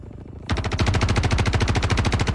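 Automatic P4 weapon firing in the Star Citizen first-person shooter, a sudden loud burst of rapid, evenly spaced heavy shots that keeps going without a pause and has no talk over it.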